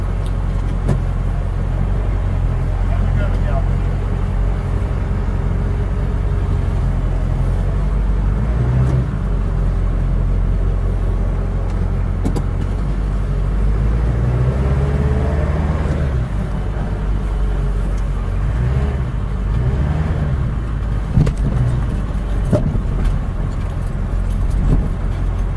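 Ford Powerstroke diesel truck driving with the windows down, a loud, continuous low engine drone with road and wind noise and a few rises in pitch as it accelerates.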